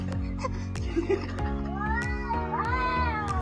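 An orange cat meows in two drawn-out, rising calls in the second half, set against steady background music.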